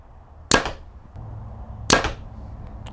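A Hoyt Alpha AX-2 29 compound bow is shot twice, each release a sharp, loud snap about a second and a half apart, close by, with a quiet hum between shots.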